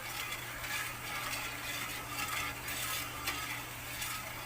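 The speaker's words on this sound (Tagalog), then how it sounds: "Tapos halo-haluin lang yan." Steady scraping and swishing of a spoon stirring thick maja blanca mixture in a pot, with a faint low hum and sizzle underneath.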